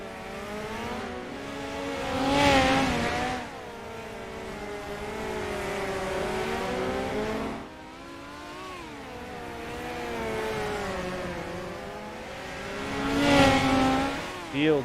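Dirt midget race cars roar around a dirt oval in a club series race, engines rising and falling through the turns with harmonic revving that swells twice as packs pass close by, steady and loud throughout.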